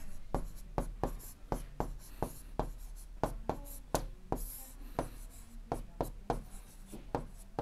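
Pen strokes on paper during a handwritten Class 7 maths lesson, a steady run of short crisp taps and scratches at close range, with no talking.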